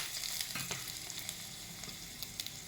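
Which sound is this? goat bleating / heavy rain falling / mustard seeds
mustard seeds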